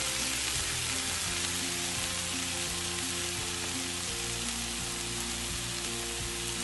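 Red lentils and herbs sizzle in a hot pan, a dense, continuous frying hiss with faint crackles and no voices.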